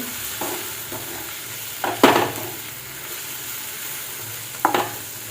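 Mushroom masala being sautéed with salt, spices and coriander powder in a pan: a low steady sizzle broken by a few sharp scraping stirs near the start and again near the end.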